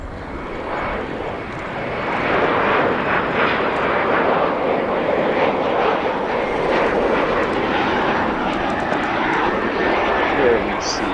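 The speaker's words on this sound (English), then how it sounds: "What a graceful takeoff this 787 does." A Royal Jordanian Boeing 787-8 Dreamliner takes off at an airport, its jet engines building to a loud, steady roar that holds strong and close throughout.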